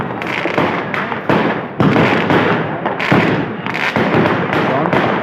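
Fireworks and firecrackers burst high in the night sky over an Arts Council Christmas display, a dense, continuous barrage of loud crackling pops and booms with sharp onsets, occasional voices underneath.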